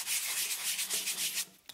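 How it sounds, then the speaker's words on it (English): Close, steady sanding of an epoxy-coated rope guard wrapped on an axe handle, a continuous raspy rubbing with short rhythmic strokes that stops abruptly near the end. "I was sanding that down, and it does come off"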